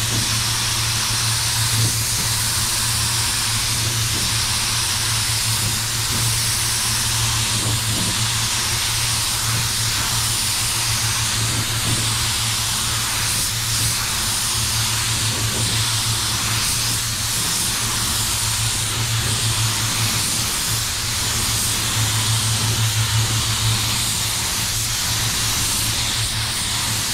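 A spray gun applies candy red paint to a car in a steady, continuous hiss that runs unbroken and fairly loud, with a low hum underneath and no talking.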